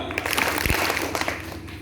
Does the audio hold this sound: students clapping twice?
yes